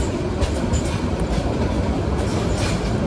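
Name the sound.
Jamalpur Express train running on rails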